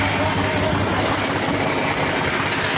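A steady, rumbling tractor engine idles close by at a house construction site, its low throb continuous and unchanging throughout.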